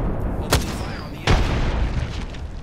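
In the Apex Legends video game, a frag grenade goes off with a deep booming blast, preceded by a shorter pop, amid game ambience and faint voice chatter.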